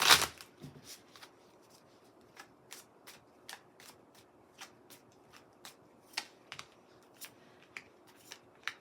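Dream Within a Dream oracle cards are shuffled close up, starting with a loud riffle and followed by a steady series of quick, crisp card flicks and taps.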